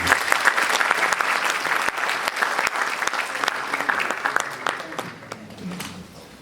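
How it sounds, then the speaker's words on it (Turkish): A crowd at a bar association gathering applauds warmly after being asked to clap, steady dense clapping that gradually thins and fades toward the end. "sizlerden onlar için bir alkış rica ediyorum"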